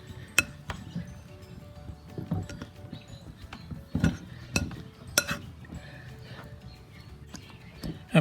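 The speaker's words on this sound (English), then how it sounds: "I'll begin to cut the butter into the flour" Pastry cutter working cold butter pieces into flour in a bowl for a cherry pie crust baked in a camping Dutch oven, giving repeated light clinks and scraping taps in an irregular rhythm, close by.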